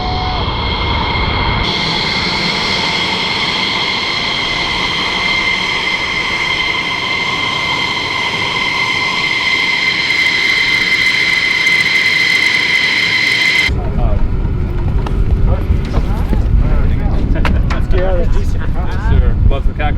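Inside an F-16 fighter jet in flight, a loud sustained engine roar with high whining tones fills the cockpit, then the tone shifts abruptly to a rougher rumble while people talk over it.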